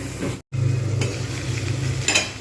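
Ginger garlic paste sizzles in a frying pan while being stirred, a steady close frying hiss broken by a brief silent gap and a few scraping utensil touches.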